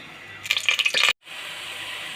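Chopped tomatoes drop into hot cooking oil, setting off a loud burst of crackling sizzle for about half a second before it cuts out abruptly, then a quieter steady background hiss.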